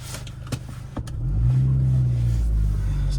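Supercharged Mini Cooper R53 John Cooper Works engine pulling away and accelerating, rising from a few clicks into a loud, steady droning rev that holds close and continuous to the end.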